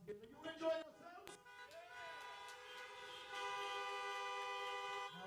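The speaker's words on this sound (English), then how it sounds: "nobody said no when they honk their horn" Several car horns honk together at a drive-in Hanukkah menorah lighting, first in short overlapping toots and then as a long sustained chorus of blaring horns, with a voice speaking briefly at the start.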